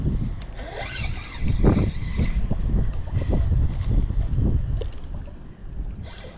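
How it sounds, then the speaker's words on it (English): Strong wind on a coast in Topsail, North Carolina buffets the microphone with a continuous low roar and gusty rumbling throughout, loud and close. "Super windy. Sorry if you guys can't hear me"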